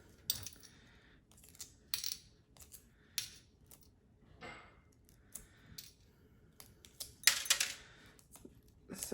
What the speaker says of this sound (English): So as we peel the shell off, we have a smoother inside.